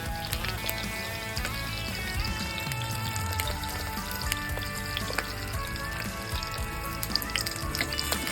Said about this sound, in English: place the salmon in hot oil, skin side down